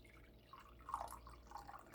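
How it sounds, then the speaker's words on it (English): Cooled tea being poured into a cup, a faint, quiet trickle and drip of liquid lasting a couple of seconds with no talk. "the tea has cooled off enough that I can pour a cup of tea"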